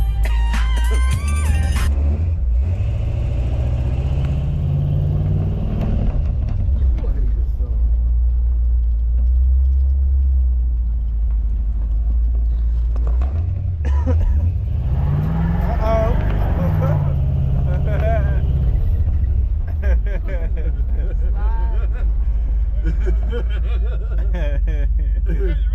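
A seatless 1972 Chevrolet Impala rolls through a residential neighborhood, its low engine rumble running steadily throughout while people talk and laugh over it.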